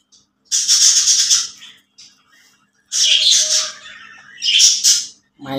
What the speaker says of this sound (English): My pretty budgie.